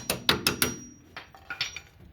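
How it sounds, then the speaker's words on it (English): A hammer taps the bolt on a 2007 Hyundai Sonata lower control arm with the 19 mm nut removed: a quick cluster of four sharp metallic strikes, then a few lighter taps, close and alone. "you just want to give it a couple taps with the hammer"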